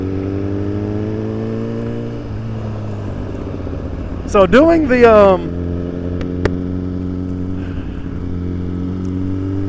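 A motorcycle engine and exhaust hum steadily while riding, loud and close, with a brief rising rev in the middle and someone talking over it.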